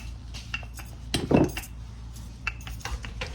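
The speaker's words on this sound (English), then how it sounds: "I'm gonna just roll out the dough" Pastry dough for Jamaican beef patties being rolled out on a kitchen counter, with soft scattered knocks and a brief louder clatter of a utensil or pan near the middle, close and quiet otherwise.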